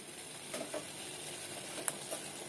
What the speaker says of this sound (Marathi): साखरेचा पाक बनवायला ठेवला होता मस्त, त्याच्यामध्ये उकळी आली आहे